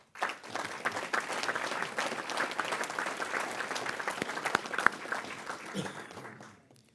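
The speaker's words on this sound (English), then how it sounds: "let's give a round of applause, even though he's not here with us today, for Coach Sanders and his incredible legacy" A round of applause at a media day event, a crowd clapping steadily with individual claps distinct, moderately loud, tapering off near the end while a few voices murmur underneath.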